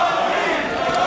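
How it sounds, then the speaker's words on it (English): A boxing crowd chants for middleweight Tony Thornton at his bout against John Scully, a dense and steady roar of many voices that holds at an even, loud level throughout. "And the crowd now chanting for Tony Thornton."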